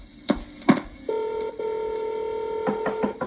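A telephone number being dialed with touch tones: two short keypad beeps, then a long steady tone that holds with brief breaks, followed by a quick run of further beeps, clear and close with no talk.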